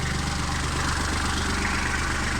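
A Kubota tractor engine idles close by, a steady, even low-frequency diesel chug with constant loudness and no talking over it.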